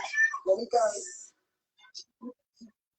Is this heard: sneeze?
no